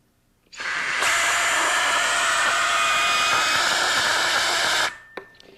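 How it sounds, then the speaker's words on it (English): A strong, steady rush of blown air, like a fan or hair dryer, lifts a ping pong ball in a physics demonstration of Bernoulli's principle. It starts abruptly, holds loud and even for about four seconds, then cuts off. "Now I'm going to blow that ping pong ball out"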